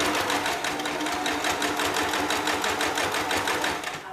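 Sewing machine running continuously on a 5/8-inch seam allowance, a loud, close, steady mechanical whir with a fast regular stitching pulse throughout.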